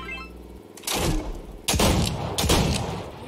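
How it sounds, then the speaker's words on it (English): Video game gunfire rings out in a few loud, sharp bursts, three main blasts spaced under a second apart over a steady low background, with no talking. "I hear shots going off in the southwest"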